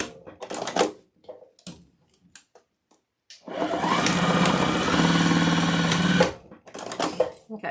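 A sewing machine runs steadily for about three seconds, stitching an attachment onto a fabric Valentine's wreath, between stretches of quiet handling sounds and short pauses.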